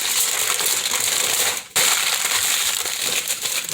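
Foil is wrapped tightly around plastic-wrapped meat in a home kitchen, giving a continuous close crinkling and crushing rustle with a brief pause midway.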